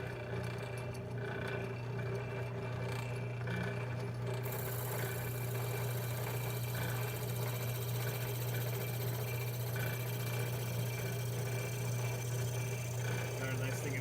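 Olive wood being drilled through on a lathe gives a steady, dense mechanical whir and grinding hum that runs unbroken at even loudness throughout.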